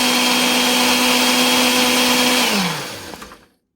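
A blender grinds a flax mixture for vegan chocolate chip cookies with a loud, steady whir, then winds down and falls silent, with no voices.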